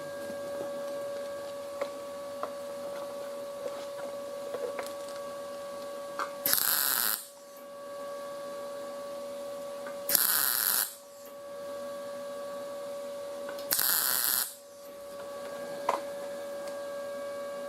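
A MIG200 6-in-1 inverter welder with 0.6 mm wire lays welds on clean sheet metal: three separate sizzling arc bursts, each under a second long, break through a steady faint electrical hum.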